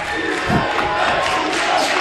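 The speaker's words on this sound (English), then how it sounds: "Again, the Dover crowd chanting defense." A home crowd from Dover packs the gym at a high school basketball playoff game and chants defense, a loud massed roar of voices rising and falling in a short rhythmic burst.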